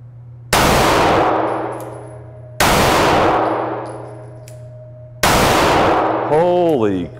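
Three loud 9mm shots from a Hellcat OSP pistol, spaced about two seconds apart, each one ringing a steel target with a long metallic decay; a voice reacts right after the last shot.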